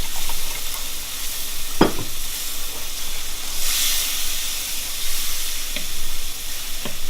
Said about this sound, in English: I'm just going to stir because it's starting to stick.